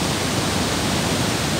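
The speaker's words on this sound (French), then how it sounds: "Fait qu'il y a une autre cascade là" A waterfall's steady broadband roar of falling water fills the whole stretch, constant and even in level with no breaks and no voices.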